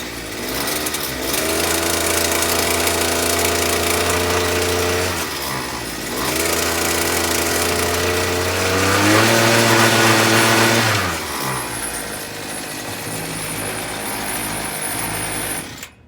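A Champion earth auger's small gas engine runs steadily and loudly up close, a buzzing drone that dips briefly near six seconds, swells higher around nine to eleven seconds, then settles back to a lower idle.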